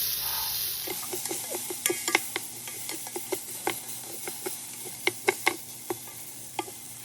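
Onion and tomato brown in oil in a pot, a soft continuous sizzle underneath sharp irregular pops and taps of stirring, fairly quiet and close, with no talk.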